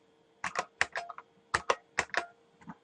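Close keyboard typing at a computer: two short runs of sharp, distinct key clicks with a brief pause between, crisp and moderately loud over a faint hum, no talking.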